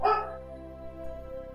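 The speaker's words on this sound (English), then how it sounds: "Yeah, that's the dog barking." A dog barks once at a kitten, a short yelp at the start, then fades under a steady low hum that continues afterward.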